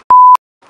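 A single steady electronic beep, a clean tone lasting about a quarter second, sounds once from an old piece of kitchen equipment, followed by quiet and a faint trace of background noise.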